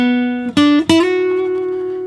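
An acoustic guitar plays a short solo lick from a song: a few quick bends and pull-offs settle into one ringing, sustained note, close and alone.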